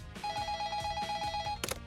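A telephone rings with an incoming call, a steady repeating electronic ring tone sounding clearly and close for over a second before a brief louder burst at the end.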